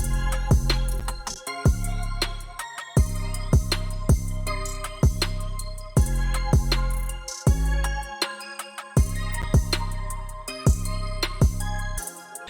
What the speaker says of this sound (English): Now let's bring on the rest of the drums.